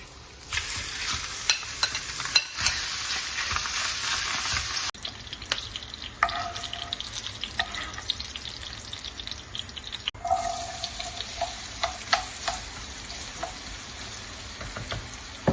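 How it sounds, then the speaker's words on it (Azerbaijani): Chicken and onions fry in a hot pan with a loud, steady sizzle, broken by stirring scrapes and brief splashy bursts; no talking. "Toyuq etini isti tavada bu şəkildə biraz möhürlədim."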